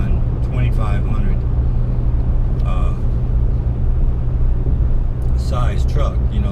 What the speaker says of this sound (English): can hear this truck right now. It is very, very quiet, and it's pretty smooth riding for a big 3/4 ton.